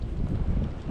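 Wind blowing outdoors by a Kansas lake, a short low rumbling buffet of gusts against the microphone with no other sound.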